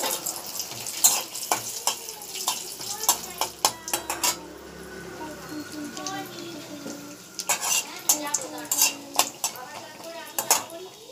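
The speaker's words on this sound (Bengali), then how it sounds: "কড়াইয়ের তেলটা গরম হয়ে গেছে, এবার আমি ফোড়নে দিয়ে দিচ্ছি কালো সর্ষে" Black mustard seeds and bori hitting hot oil in a wok, with a soft sizzle under repeated sharp clinks and scrapes of a metal spoon against the pan.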